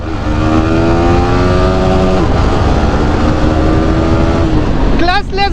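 A Bajaj Pulsar 220 or Yamaha R15M motorcycle engine revs loudly and steadily close by, its pitch climbing and then dropping at a quick clutchless gear shift, then rising again near the end.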